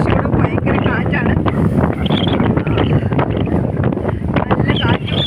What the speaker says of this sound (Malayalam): പക്ഷേ ഇവിടെ ഭയങ്കര കാറ്റാണ്